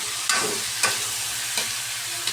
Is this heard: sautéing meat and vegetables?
yes